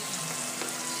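Rice with corn cooks in a pan for Creole-style chicken fajitas, giving off a steady close sizzle and fry hiss with no talking.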